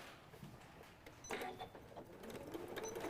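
A home sewing machine stitches fabric for a stuffed nativity figure, a quiet rapid mechanical whir that starts faintly and grows busier, with small clicks and no talking.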